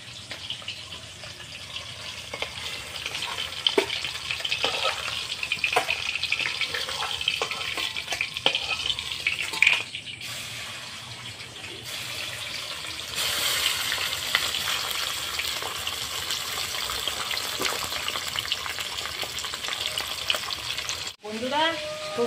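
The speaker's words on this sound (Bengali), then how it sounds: "সর্ষে পোস্তর জন্য ইলিশ মাছটা হালকা করে ভেজে নিতে হয়, ওই জন্য আমি হালকা করে ভেজেছি।" Hilsa fish fries lightly in a pan for a Bengali mustard-poppy-seed dish, a continuous sizzling crackle with stirring clinks and brief running-water sounds, and a little speech in the background.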